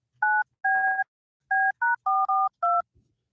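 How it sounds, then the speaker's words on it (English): A telephone number is keyed in as seven crisp DTMF tones in an uneven rhythm, loud and close, with silence between the beeps. "I got to dial 1, don't I? 9 and then 1 and then the area code."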